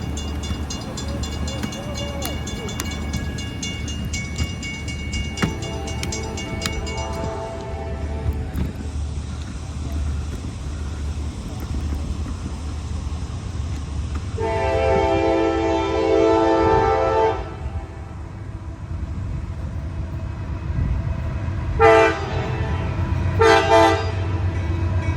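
Amtrak train passing a grade crossing, with a steady low rumble throughout and several loud horn blasts, a long one mid-clip followed by two short toots near the end.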